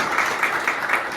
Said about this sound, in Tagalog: sige tuloy niyo po palakpak nyo